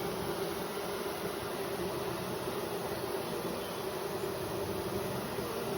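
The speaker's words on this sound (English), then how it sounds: "there's just a handful of bees up here" Honeybees hum steadily around an open hive, a dense, even buzzing that stays close and constant without breaks or voices.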